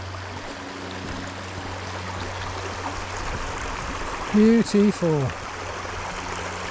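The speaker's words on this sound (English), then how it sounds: "It's flowing quite nicely." Water from the Banishead waterfall flows in a steady broadband rush, continuous and moderately close, with a voice speaking briefly near the end.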